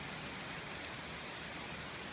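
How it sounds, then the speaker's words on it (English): Heavy rain pours steadily as a dense, even hiss with no pauses, loud and close, on a rainy day during an outdoor running challenge, with no voices. "sometimes you have days like this where it's raining heavily"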